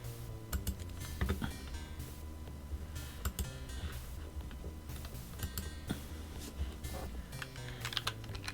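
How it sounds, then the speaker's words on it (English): Rapid computer keyboard typing, a steady run of clacking keystrokes with occasional sharper taps, set behind a hum and game music in the Sega Genesis game Shadowrun. "the clacking of computer keys in the background"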